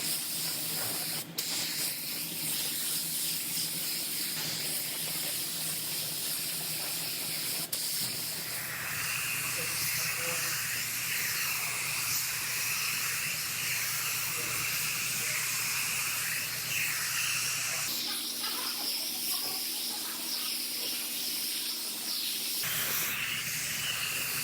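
Epoxy primer sprayed from a spray gun onto a Toyota RAV4 lift gate in a body shop, a steady loud hiss running continuously for the whole stretch with slight changes in tone, no talking.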